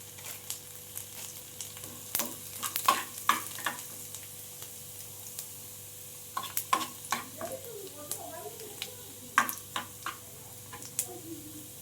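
Dry red chili and chopped garlic go into a small pan of hot oil for dal tadka, giving a faint crackling sizzle with scattered sharp ticks and occasional stirring clinks, all fairly quiet throughout.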